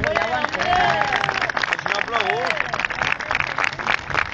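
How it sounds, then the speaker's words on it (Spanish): An outdoor crowd at a historical reenactment of the Battle of Almansa applauds the reenactors, with clapping mixed into lively chatter, shouts and voices throughout, fairly close and steady. "Les rogaría un fuerte aplauso para todos ellos"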